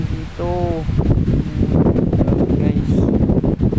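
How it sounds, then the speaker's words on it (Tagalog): Strong Typhoon Kristine wind gusts roar into the microphone at a house in the Visayas whose roof sheets have been torn off, a loud continuous buffeting with a brief tonal whine near the start. "Ayan, grabe ang lakas ng hangin dito."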